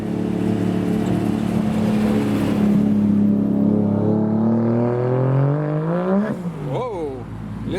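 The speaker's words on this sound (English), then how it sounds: "I can hear and see a white Toyota Chaser behind the 300ZX." A white Toyota Chaser leaving the Simply Japanese 2021 JDM car show, its engine loud and close as it revs, the pitch climbing steadily and then sweeping up and down near the end.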